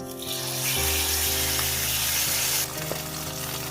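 Spice paste hits hot oil with bay leaf and whole garam masala, bursting into a loud, close sizzle that swells, then eases slightly into a steady crackling fry, no talk.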